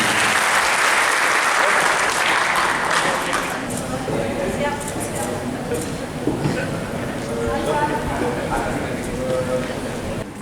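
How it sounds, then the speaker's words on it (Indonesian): Audience at a Santri Day gathering applauds loudly for a few seconds, then the clapping thins into scattered hands as a voice begins talking over it. "Berikan tepuk tangan yang sangat."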